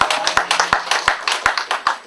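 A church congregation claps in a steady, quick rhythm at a worship service, loud sharp hand claps repeating evenly throughout with faint voices beneath.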